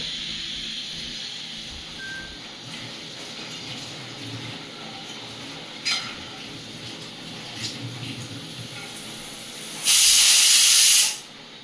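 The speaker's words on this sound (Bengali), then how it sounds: "সিটি পড়তে শুরু করে দিয়েছে, 3টে হয়ে গেল, আর 2টো সিটি পড়লে আমরা এটাকে নামিয়ে নেব।" A pressure cooker cooking yakhni pulao lets out a loud, steady steam whistle near the end, lasting about two seconds over a quieter hissing kitchen background.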